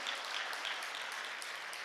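Congregation applauding at a church revival service at a fasting prayer retreat, a steady dense wash of clapping throughout with no voices standing out.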